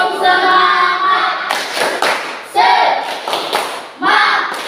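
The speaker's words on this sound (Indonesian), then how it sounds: "Tepuk semangat." A sixth-grade class doing the rhythmic 'tepuk semangat' clap: groups of sharp, loud hand claps in a quick pattern, interleaved with children's voices chanting together.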